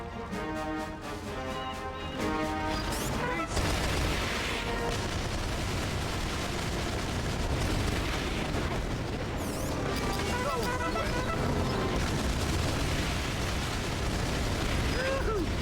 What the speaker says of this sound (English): press and hold the B button to load a salvo of missiles before firing